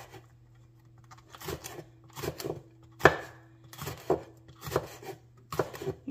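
Knife cutting chilaca peppers into thin rounds on a board, a series of sharp, close chops that come in uneven bursts over a steady low hum.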